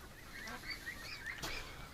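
Ducks on a farm honk and quack in short, bright calls, several overlapping across two seconds at moderate distance, with a louder burst near the end.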